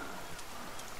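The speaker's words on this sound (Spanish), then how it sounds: "Sí, creo que está lloviendo." Rain in The Forest video game falls as a soft, steady hiss of drops, faint and even throughout the brief moment.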